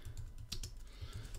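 Quiet, rapid tapping on a computer keyboard, with soft irregular key clicks close by and no voices.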